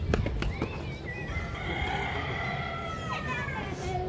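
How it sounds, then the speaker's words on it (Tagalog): A rooster at a zoo park gives a long, wavering crow at mid distance over a constant background hum, following a few sharp clicks and knocks at the start. "Parang nasa Pinas lang yung tilaok ng manok ko."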